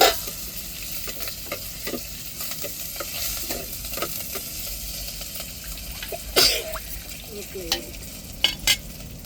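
Curry leaves drop into the rasam pot with crushed garlic, starting a soft, patchy sizzle with scattered crackles and a few sharper pops near the end, fairly quiet, no voices.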